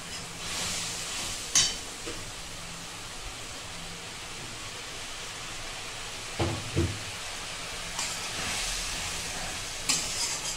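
Spice masala with Kashmiri chilli powder and whole green chillies fries quietly in a pan, a soft continuous sizzle broken by a few short stirring scrapes and clinks.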